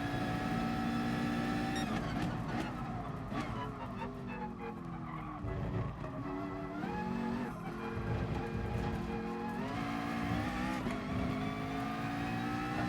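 A McLaren race car in Gran Turismo Sport, its engine droning and shifting pitch continuously with tire squeal mixed in, loud and sustained throughout.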